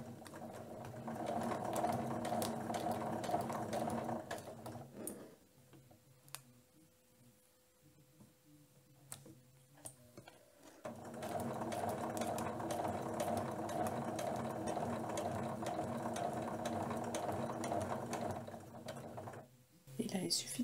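A sewing machine runs steady, rapid stitching along a dress seam, stopping for several seconds and then starting again at the same even whir, close and clear.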